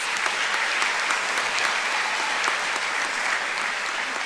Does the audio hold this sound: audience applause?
yes